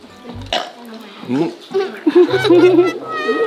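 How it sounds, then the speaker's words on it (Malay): A child burps after a meal at a Japanese school: one short, sharp burp near the start, followed by children's voices and light laughter close by. "Dia sendawa."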